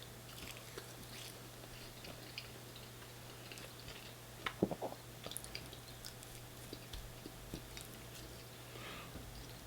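Close chewing and biting on steak at a home meal alongside chips and onion rings, soft wet mouth sounds with a small cluster of crunchy bites, over a steady low hum.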